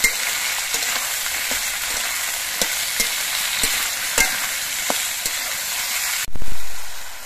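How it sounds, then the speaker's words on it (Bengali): Potato peels fry in a pan with salt, giving a steady close sizzle while a utensil stirs them in light, irregular scrapes and taps. A brief louder hiss bursts out near the end. "নুনটা দিয়ে আলুর খোসাগুলো ভাজতে হবে।"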